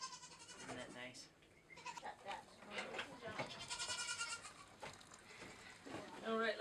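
Nigerian Dwarf goats on a farm bleat repeatedly during hand milking, with several wavering, nasal calls close by and people talking in between.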